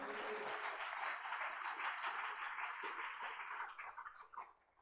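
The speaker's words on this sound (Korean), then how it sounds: "하나님께 영광의 박수를 드리겠습니다." A church congregation claps during a Sunday thanksgiving testimony service, a dense, sustained round of applause from a crowd that tapers off toward the end.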